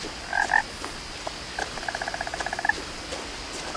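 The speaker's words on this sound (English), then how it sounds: "Sounds like there's some frogs." Frogs croak in a creek area of the video game What Remains of Edith Finch: a couple of short croaks, then a quick run of about a dozen rapid croaks, fairly close and clear over a quiet ambient background.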